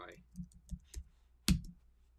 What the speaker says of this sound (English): I'll type it right up here